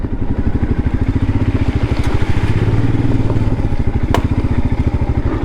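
A Royal Enfield Himalayan motorcycle thumps along off-road with a loud, close, steady single-cylinder pulse, its engine note rising slightly mid-ride, with a sharp click or clatter near the end.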